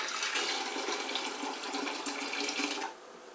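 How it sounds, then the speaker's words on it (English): Water pours from a dipper into a kitchen sink while pickling beets, a loud, steady splashing rush that drops off near the end. "pour off some water"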